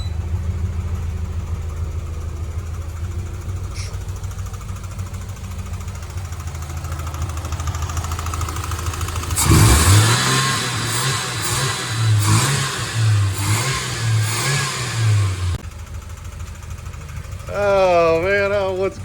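A Ford Ranger engine idles with a steady, rough knocking, then revs sharply several times in loud bursts and settles back to idle. A whirring squeal rises near the end.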